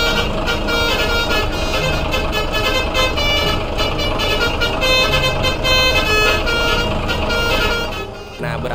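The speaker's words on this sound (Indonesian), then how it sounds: "kalau pengen nyapa mania, kita bunyikan klakson Basurinya" A Basuri musical multi-tone truck horn sounds in Euro Truck Simulator 2 on a modified Rahayu Transport Andromeda Reborn bus, a loud, sustained melodic honking with shifting tones over engine noise, fading out at the end.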